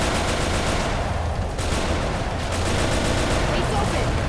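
Left 4 Dead 2 gunfire on the Dark Carnival versus map forms a thick, continuous wash of shooting and game noise, loud and unbroken for the whole stretch.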